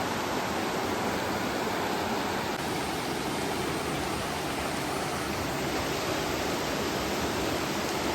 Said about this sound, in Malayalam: ഇത് ആറ് നിറഞ്ഞൊഴുകുന്ന സംഭവമാണ് കേട്ടോ